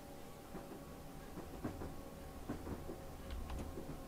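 A train runs on rails along the Brighton Main Line in the Train Simulator video game: a low steady rumble with irregular wheel clacks over rail joints and no talking.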